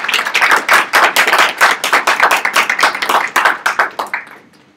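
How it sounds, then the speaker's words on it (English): A small audience claps steadily after a club visit demonstration, a dense run of close handclaps that keeps going for several seconds before tapering off quickly at the end. "Big round of applause."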